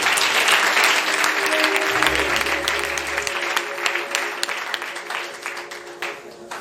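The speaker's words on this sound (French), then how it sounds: "Acclamez-vous." A church congregation breaks into loud, sustained applause, with dense clapping filling the hall and tapering slightly toward the end, sometimes with voices mixed in.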